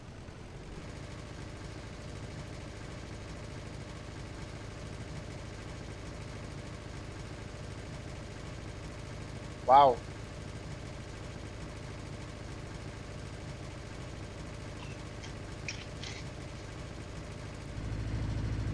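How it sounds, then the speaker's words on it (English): A flat-four engine idles steadily in the game Automation with a low, even, faint hum. A single brief exclamation breaks in midway. "Now, of course, it's time to fire it up, gentlemen. Our first flat 4 engine for tonight."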